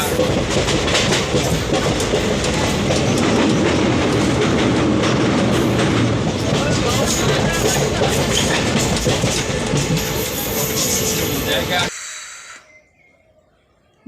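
A crowded passenger train rolls along the rails with loud, steady clatter and rumble. Dense noise fills the clip for about twelve seconds, then drops away sharply toward near silence.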